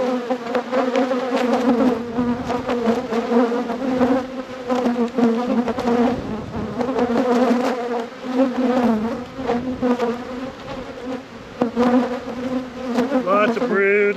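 Honeybees swarm and hum inside Hive 6 during a deep spring inspection after winter, the colony full of brood. A dense, continuous buzz of many wings stays loud and close throughout, wavering slightly in pitch.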